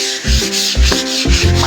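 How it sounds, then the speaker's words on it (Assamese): A furniture surface is sanded by hand with 120-grit sandpaper, making loud close scraping rubs in about three rhythmic back-and-forth strokes. "120 পেপাৰ লৈ এইটো কাটিম ধুনীয়াকৈ"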